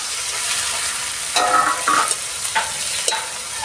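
Chopped ripe green chillies hit hot oil in a pan for koi fish bhuna, giving a steady sizzle with a few sharper bursts of frying and stirring scrapes, close and clear, no talk.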